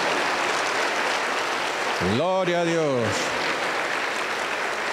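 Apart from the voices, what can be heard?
congregation applauding in church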